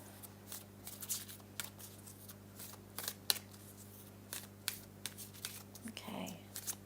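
A deck of tarot cards shuffled by hand in a psychic reading, rapid papery flicks and taps against a low steady hum, with a brief faint voice near the end.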